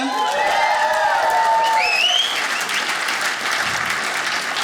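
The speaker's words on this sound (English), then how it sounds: "Let's get a round of applause for America." A comedy crowd breaks into loud applause with cheers and whoops for America. Dense, sustained clapping fills the room, and a few whistles and shouts rise over it early on.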